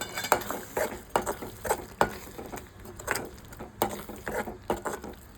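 Pumpkin halwa stirred in a pan, a close series of soft scraping and patting strokes repeating at an uneven rhythm, with no talking.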